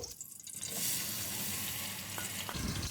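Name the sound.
onions frying in ghee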